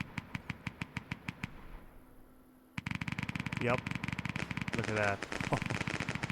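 Fireworks in the video game Fireworks Mania crackle in rapid regular bursts, a short quiet gap, then a denser loud volley of pops continuing under a voice.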